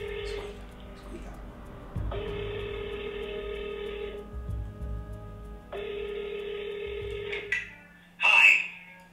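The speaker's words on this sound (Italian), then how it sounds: "Squilla." A telephone rings on an outgoing call, two long electronic ring tones separated by a pause, then a brief clatter and click near the end.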